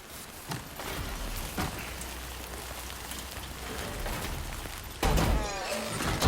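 Rain falls steadily in the Death Stranding 2 video game, a continuous close patter of drops on surfaces with occasional heavier thumps and a louder burst near the end.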